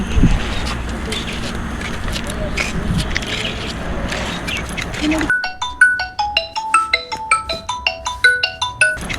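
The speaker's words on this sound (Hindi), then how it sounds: "ये लड़की फोन भी नहीं उठा रही है।" A mobile phone rings unanswered, a repeating electronic melody of short bright tones that starts abruptly after a stretch of busy, noisy background and keeps pulsing in a regular rhythm.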